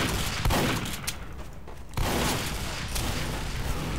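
Rapid bursts of gunfire in the video game Team Fortress 2, set against a dense, continuous battle din with a sharp burst near the start and another loud wave after a brief lull.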